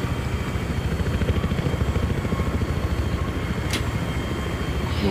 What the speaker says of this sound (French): tu prends l'hélico